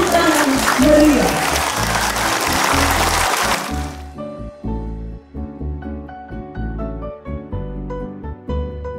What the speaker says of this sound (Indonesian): Kita berdiri dan menyambutnya dengan tepuk tangan meriah